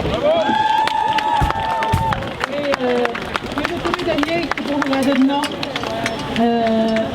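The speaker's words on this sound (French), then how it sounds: "Un applaudissement, s'il vous plaît." Crowd at an equality march in Montreal, Quebec, claps in scattered bursts amid loud cheering, whistling tones and outdoor babble, with voices talking throughout.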